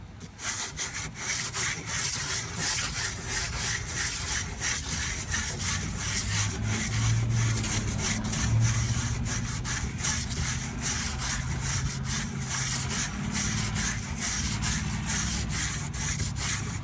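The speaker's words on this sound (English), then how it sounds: "Now we have the Bondo on there, and what I have is a little sanding block" Continuous rhythmic scraping of a sanding block rubbing back and forth over Bondo body filler on a 1999 Jeep Wrangler, close and steady throughout, outdoors on a slightly windy day.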